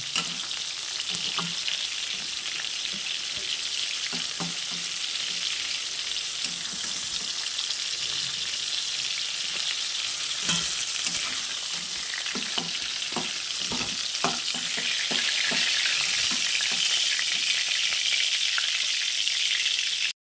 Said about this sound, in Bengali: পটলগুলো ভাজা হয়ে গিয়েছে, কি সুন্দর করে ভেজে নিয়েছি।